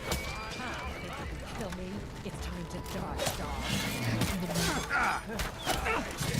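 A horse in the Skyrim video game neighs amid clip-clopping hooves and clashing combat noises, with people talking loudly over the busy, cluttered scene.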